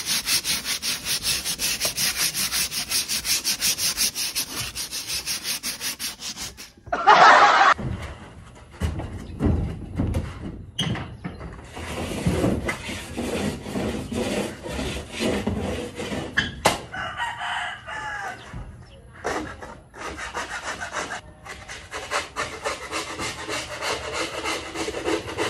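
Wood being sanded by hand in a DIY job gives a steady, close rasping rub that runs through most of the stretch, pausing briefly early on, with a rooster crowing in the background.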